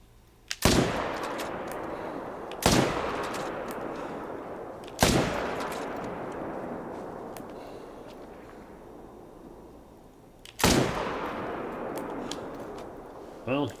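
Four loud, sharp gunshots from a whitetail deer hunting video game, evenly spaced a few seconds apart, each trailing off in a long echoing boom, with one softer pop at the very end.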